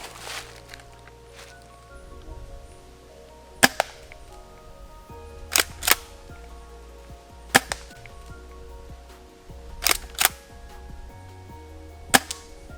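A CYMA M870 full-metal airsoft shotgun fires five sharp, snappy pops spaced about two seconds apart, with soft handling clicks and shuffling between the shots.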